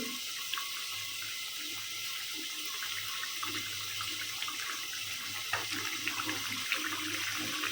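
Koi fish curry gravy boiling in a pot on a stove, a steady close bubbling and hissing simmer that continues evenly throughout with no talking.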